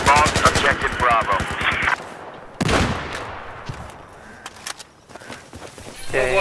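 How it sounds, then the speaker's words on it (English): Machine gun fire in Battlefield 4 rattles in a fast burst of loud shots at the start, followed by scattered single reports, footsteps and battlefield clatter, with game voices briefly audible. "Machine gunner east of your current position."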